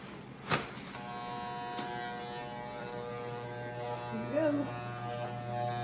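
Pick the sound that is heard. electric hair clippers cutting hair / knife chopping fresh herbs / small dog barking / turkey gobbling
electric hair clippers cutting hair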